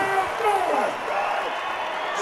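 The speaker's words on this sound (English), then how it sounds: "Bjornsson once again bringing the crowd to its feet" A crowd at a strongman competition cheers and roars in a continuous wash of voices, with an announcer talking over the noise.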